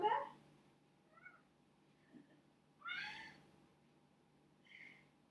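A pet cat meows several times in a home yoga session, short calls spread across the moment with one louder, longer meow in the middle and quiet pauses between.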